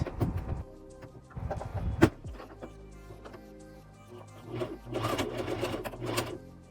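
A sewing machine stitches down a replacement invisible zipper in short runs of rapid mechanical whirring, pausing in between. The sound is close and moderately loud with no speech.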